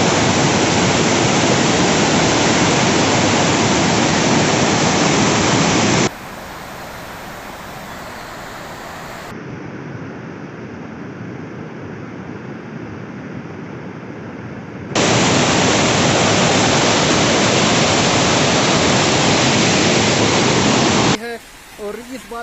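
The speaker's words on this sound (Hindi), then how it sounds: "और इस बारिश के चलते हुए यहाँ की गलियाँ काफ़ी भर चुकी है पानी से और इस तरह का पानी यहाँ चल रहा है।" Rainwater rushes through flooded streets as a loud, steady broadband roar that fills most of the clip, broken by abrupt cuts to a quieter, duller wash and then back to the full torrent.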